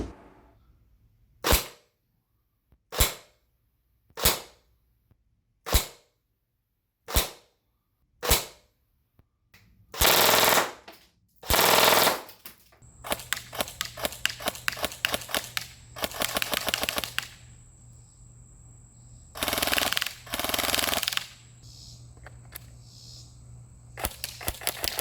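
An Umarex IWI Tavor CTAR Elite Series airsoft rifle fires a series of evenly spaced single sharp shots, then loud rapid-fire bursts over a mechanical whir, close and clear with no talk.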